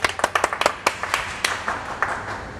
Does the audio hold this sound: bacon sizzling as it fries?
no